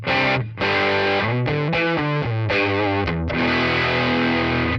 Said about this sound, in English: you're going to be hearing the Tonex One